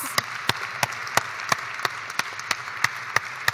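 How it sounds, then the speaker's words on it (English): Light, evenly spaced claps, roughly three per second, from a small audience at a conference session on partnerships for gender equality; steady, fairly faint and without voices. "it's actually 30 years this year, so big applause."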